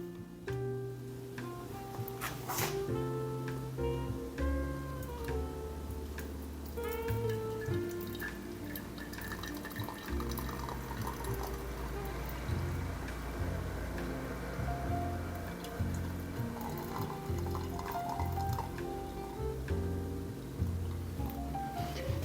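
Water runs and splashes as coffee brewing equipment, including a carafe, is rinsed at a sink, a soft continuous trickle with clinks underneath and nobody speaking.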